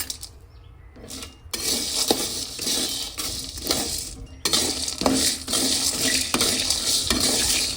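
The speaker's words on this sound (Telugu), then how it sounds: "ఉద్దిపప్పు కొంచెం పచ్చిశనగపప్పు వేసేస్తున్నాము వీటిలో కొంచెం ఫ్రై చేస్తున్నాము ఇందులో కొంచెం పట్టాల లవంగాలు కూడా వేసుకుని ఫ్రై చేస్తున్నాము" Urad dal, chana dal and cloves fry and get stirred in a pan for capsicum curry, a close scraping and stirring rattle with soft sizzle, bursts of clinking and brief pauses between strokes.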